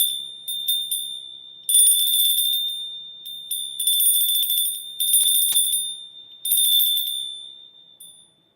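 A bell rings in repeated bright bursts of uneven length, each dying away before the next, clear and fairly close with no talk.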